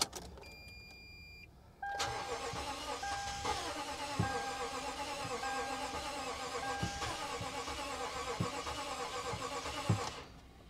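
A Toyota car engine cranking but failing to start, a steady mechanical churning drone after a quiet start, marked by regular clunks and a faint chime, then cutting off abruptly.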